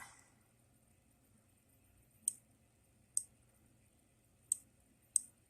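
Computer mouse clicks on a shopping website, four sharp, isolated clicks spaced about a second apart against near silence.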